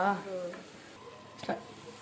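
Soya chunk kebabs fry in hot oil with a faint, steady sizzle and a couple of brief stirring clatters, and a voice talks briefly at the start.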